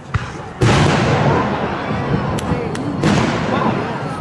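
Fireworks display explodes with a sharp opening bang followed by dense rolling crackle and rumble, plus a couple of further pops, loud and continuous across the stretch.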